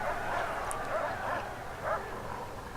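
Dog barking and yipping in the prison management game Prison Architect, a few short excited barks repeating over a steady busy background at moderate level.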